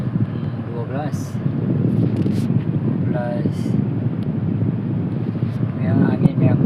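A Honda SM4 car's air-conditioning blower motor runs with a steady, strong rushing whoosh of air, close and constant, while someone talks briefly over it.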